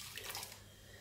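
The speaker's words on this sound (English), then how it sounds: "Pour a small quantity of water into the edible potash." A small amount of water pours into edible potash while Nigerian abacha is prepared, heard as a short, soft, steady trickle and splash, alone and fairly quiet.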